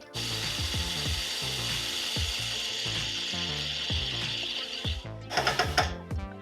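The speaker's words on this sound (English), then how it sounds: "Put in a drill and then spin it on a grinder." An M10 bolt chucked in a drill spins against a grinder, making a sustained, close abrasive whine with rhythmic rattling underneath. A short burst of louder grinding comes near the end.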